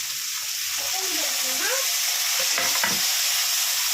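Tomato with ginger garlic paste sizzles and fries in a pan for prawn thokku, with a steady loud hiss throughout and a few stirring scrapes near the end.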